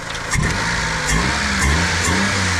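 A small kei truck engine revs up and down through its exhaust, close and loud, with a throaty rasp and uneven throttle blips.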